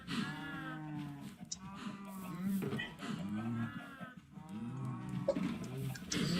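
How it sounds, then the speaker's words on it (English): Cattle moo and low in a video game farm pen where cows are being bred, with several drawn-out, overlapping calls of varied pitch. A voice talks over them. "I'm breeding cows."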